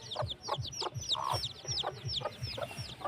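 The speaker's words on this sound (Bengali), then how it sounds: "মুরগির বাচ্চা" Chicks chirp in quick high peeps from a village in Singra, Natore, over steady low clucking from an adult hen close by, with no talk.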